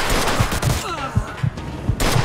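Dense bursts of gunfire from a Mafia II shootout, rapid overlapping shots and automatic fire that crackle loudly and almost without a break, with a short lull in the middle.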